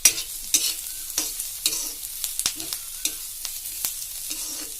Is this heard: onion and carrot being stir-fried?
yes